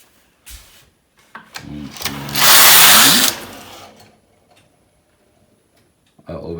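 A Passap E6000 knitting machine carriage sweeps across the needle bed while knitting a raglan sweater, giving a loud whirring, rattling pass of about a second with softer mechanical clicks before and after.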